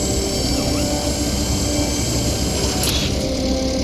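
Airlock opening in the game Oxymut: a steady mechanical drone and whir with faint ratcheting detail, loud and continuous, and a brief hiss near the end.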